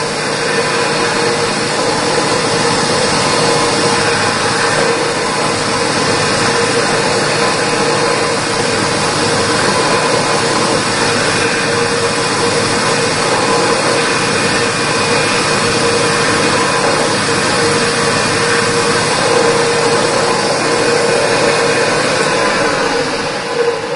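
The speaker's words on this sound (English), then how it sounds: "There we go with the center drill." A center drill cuts into metal on a machine held in a collet, giving a loud, steady whirring and grinding drone that carries on evenly throughout, with no voices.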